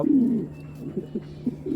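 Giant-sized fancy pigeons in a loft coo in a few short low phrases close by, a longer rolling coo at first and then softer broken ones.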